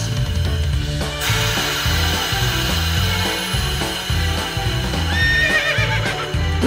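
A ride-on toy horse plays an electronic neigh with clip-clop hoofbeats, loud and continuous against a backing jingle, with a whinny rising near the end.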